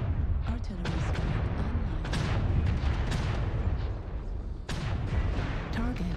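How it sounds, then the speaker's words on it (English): Artillery strike explosions in the mech combat game MechWarrior Online during faction warfare, heavy low rumbling booms and blasts layered over a dense, continuous battle din with sharp impacts scattered throughout. "Artillery strike."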